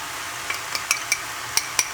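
Beef stroganoff ingredients with paprika sizzle softly in a hot pan, a steady hiss punctuated by several light metallic clinks and scrapes of a utensil stirring against the pan, close and fairly quiet.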